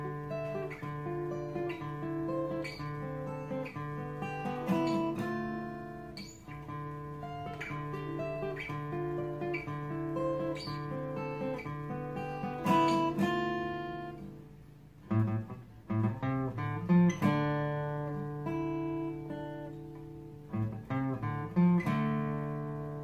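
A guitar plays the intro of a song, with ringing picked chords and single notes, slow and sustained, then brief pauses before sharper plucked phrases, played solo without talk.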